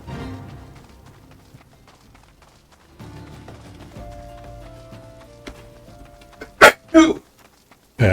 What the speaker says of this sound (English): That was my roommate sneezing.